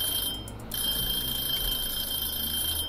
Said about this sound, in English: that alarm's going to go off in a second